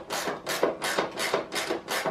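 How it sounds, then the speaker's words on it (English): A ratchet spanner works on the seat bolts of a Lambretta scooter, giving about six even rasping clicking strokes, each roughly a third of a second apart, close and fairly loud. "I'm going to use ratchet spanner on this"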